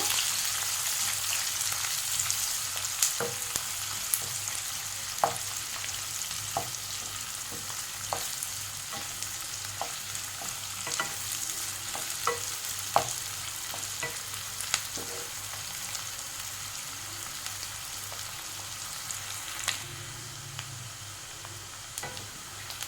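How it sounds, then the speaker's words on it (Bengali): Two medium onions, finely chopped, fry in a pan for chicken khichdi, giving a steady close sizzle with scattered crackles and occasional stirring scrapes throughout, no voices over it. "পেঁয়াজটাকে একটু ভালো করে ভেজে নেব।"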